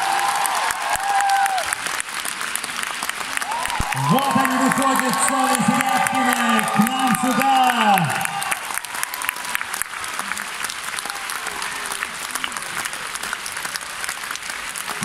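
Concert hall audience applauding steadily with dense clapping and some cheering throughout, while someone speaks over the clapping.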